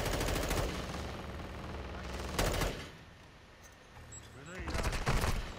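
Automatic gunfire in Call of Duty DMZ comes in loud rapid bursts near the start, again around the middle and at the end, with quieter stretches between and voices talking over parts of it.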